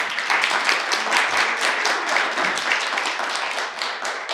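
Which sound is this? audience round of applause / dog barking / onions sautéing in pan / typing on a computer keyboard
audience round of applause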